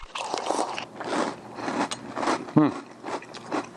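Timbits breakfast cereal crunches loudly and close between the teeth, a burst of crisp bites followed by chewing that comes and goes in uneven bursts over several seconds.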